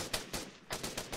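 Quick gunshots in the military shooter ArmA 3, a handful of sharp cracks spaced across a brief moment, moderately loud with no talking.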